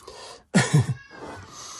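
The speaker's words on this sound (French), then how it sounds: "c'était mon chat" A pet cat gives one short, loud vocal cry, likely a meow or chirp at a bird, close to the microphone, with quieter indoor background noise before and after.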